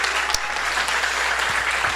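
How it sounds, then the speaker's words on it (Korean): Congregation at a welcome gathering in a rural church applauding one another, a brief burst of steady, dense clapping. "여기까지 오신 여러분을 정말로 환영하고 박수 한번 서로에게 쳤으면 좋겠습니다"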